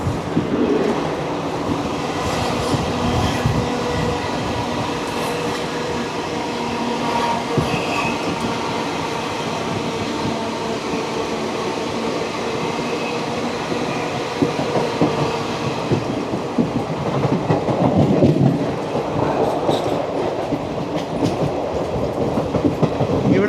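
Steady rumble and rattle inside an AC chair car of the 22953 Gujarat Superfast Express between Vadodara and Ahmedabad, with continuous rail noise, faint clickety-clack and swelling louder passages near the end.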